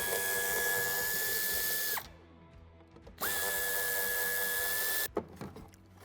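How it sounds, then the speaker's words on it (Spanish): A power tool whirring steadily as it backs out two screws on a 2006-2015 Nissan Primastar van, two sustained runs with a brief pause between, followed by a few small clicks and knocks. "Quitaremos estos dos tornillos."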